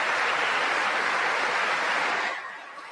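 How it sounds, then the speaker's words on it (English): Sustained applause from a large audience fills the space as a dense, even wash of clapping, fading slightly near the end with no voices over it. "And they're just clapping for forever, man."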